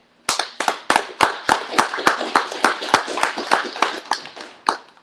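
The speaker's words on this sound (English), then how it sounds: "So I applaud you guys once again for that." Clapping at a brake and lamp program graduation, a small group applauding with distinct, sharp individual claps in an uneven but steady rhythm, close and fairly loud, tapering off at the end.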